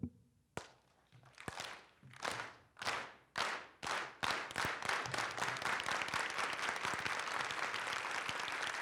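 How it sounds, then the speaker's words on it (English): An audience at a global health conference in Los Angeles performs a unity clap: single loud claps start slowly, then quicken steadily until they merge into a continuous burst of applause. "So please join me as I end with this unity clap"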